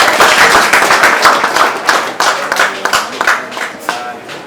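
A crowd applauds at an inauguration gathering in Goma, DRC, by the La Corniche border: dense, loud clapping from many hands, continuous throughout with sharper individual claps standing out near the end.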